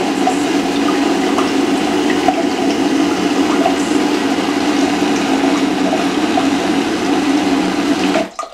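A Toptoilet Luxe Gold Connect Japanese bidet seat sprays water with its pressure turned up, a loud, close, steady hiss and pump hum that continues evenly before cutting off at the end.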